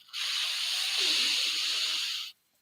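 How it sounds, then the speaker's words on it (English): A single long breath drawn in, an airy hiss that starts abruptly, holds steady and close for about two seconds, then stops. "Breathing in"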